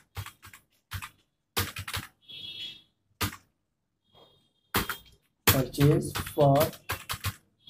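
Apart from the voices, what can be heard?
typing on a computer keyboard for a Tally entry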